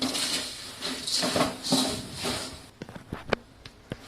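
Puffed rice (murmura) for chivda is stirred in a pan, giving a soft rustling scrape with a few light metallic clinks and taps near the end.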